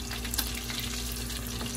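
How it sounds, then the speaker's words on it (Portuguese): Breaded tilapia fries in hot oil, giving a steady, close, dense crackling sizzle that holds at an even level throughout, with no voices. "Tá vendo que tá fritando aqui?"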